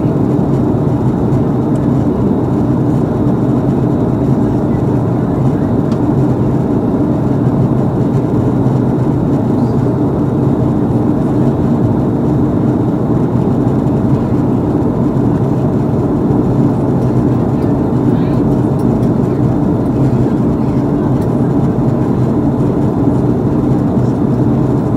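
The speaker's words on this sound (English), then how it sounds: "We will be landing shortly." Inside a Delta Airlines Boeing 757-200 on approach for landing, a loud, constant low engine and air roar fills the cabin, unbroken and even across the whole stretch with no voices.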